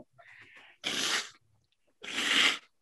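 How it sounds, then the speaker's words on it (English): Two loud, wet nose blows about a second apart, each a short breathy burst, close to the microphone with quiet sniffles in between. "let me blow my nose."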